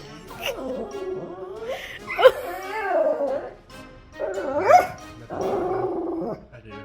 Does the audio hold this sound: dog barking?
yes